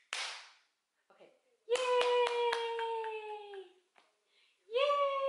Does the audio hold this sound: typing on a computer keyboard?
no